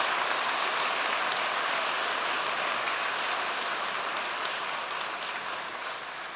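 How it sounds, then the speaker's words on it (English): Steady, dense applause from a large audience at a university conferring ceremony, a continuous hiss-like wash of many hands clapping, slowly fading slightly, with no talking. "Maybe a round of applause for our name caller."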